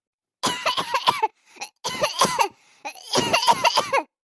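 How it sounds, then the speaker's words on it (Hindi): A person coughs in three harsh bouts of rapid bursts, separated by short pauses, close by. "बहुत खांसी आवत बाटे, सिनेमा में पिरात बाटे"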